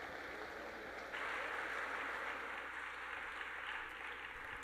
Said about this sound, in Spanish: hoy le damos un fuerte aplauso con esta ponencia que nos va a compartir.